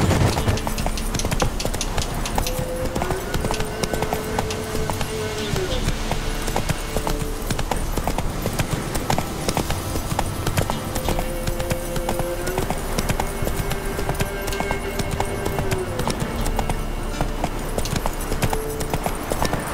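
Hooves clip-clop in a rapid, steady gallop as a horse named Roach runs in The Witcher 3 video game, continuous and prominent throughout with game sounds in the background.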